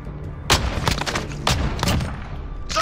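Shotgun fire in Call of Duty: Modern Warfare, several sharp loud blasts spaced about half a second to a second apart, with booming tails and a final shot at the end, no clear speech.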